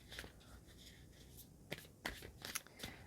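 Tarot cards being shuffled during a reading: a quiet, steady rustle with several sharper riffle bursts near the end, close by and heard on its own.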